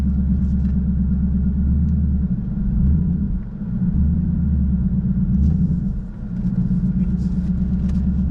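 A 2015-2023 Ford Mustang GT drives after a BG fluid change. A loud, steady low engine rumble and drone fill the cabin, swelling and dipping slightly as the car moves, with some talk inside.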